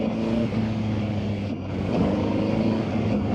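A VOGE RR 500 S motorcycle engine hums with the throttle fully closed and rolling off, a steady mid-level drone with a slight dip and swell in revs.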